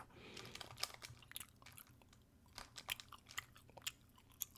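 Gum chewing close to the microphone: soft, irregular wet clicks and smacks repeat throughout, fairly quiet, with no talking.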